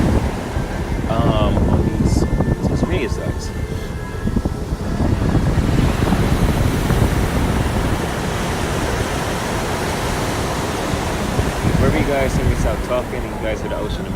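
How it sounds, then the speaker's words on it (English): Ocean surf rolls in as a continuous, loud wash of breaking waves, blended with wind buffeting the microphone, with a brief voice near the start. "guys hear the ocean in the background because we're trying to let you guys get the vibe of the ocean"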